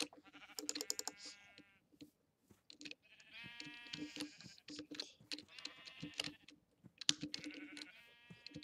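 Sheep in a video game bleat repeatedly in several wavering calls, with faint clicking of keys in between and a quiet, close sound.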